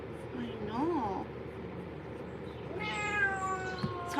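A short-haired cat meows during grooming, with a rising-falling meow early on and a longer, louder wavering meow near the end, close by, with a person talking softly in between.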